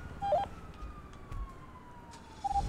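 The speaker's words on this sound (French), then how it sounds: "C'est toi les sirènes qu'on entend?" Emergency vehicle siren in a roleplay video game, a steady wailing tone running faintly in the background for the whole stretch, with a few brief louder bursts and light incidental noise around it.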